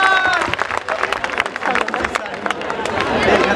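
Students at a school farewell party clap loudly to welcome a teacher, a crowded, lively spatter of applause mixed with cheering and chatter, with a voice heard at the start.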